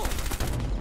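Rapid gunfire from the video game Rainbow Six Siege, a dense continuous burst of loud shots filling the whole moment with no pauses, close and harsh.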